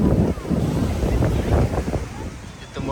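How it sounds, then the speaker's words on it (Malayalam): Strong wind at Chavakkad beach buffets the microphone in rough, uneven gusts over a low surf rumble, loud and close throughout. "ഇവിടെ ഭയങ്കര കാറ്റും കാര്യങ്ങളുണ്ട്"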